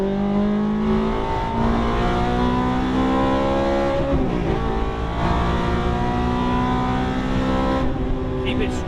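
A race car on a track at EXR Las Vegas, either a Porsche GT3 RS or a Corvette C7 Z06, with a loud engine note that rises and falls through braking and cornering. A coach's voice talks over it throughout.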